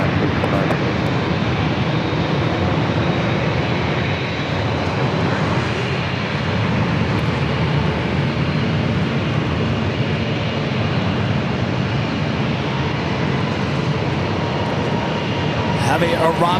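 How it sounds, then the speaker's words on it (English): A Japan Airlines 787-8 Dreamliner jet takes off heavy from San Diego airport, a sustained, loud, broad engine roar holding steady throughout with voices in the background. "Heavy arrival followed by a heavy takeoff. Japan Airlines, the 787-8 Dreamliner now heading back to Tokyo Narita."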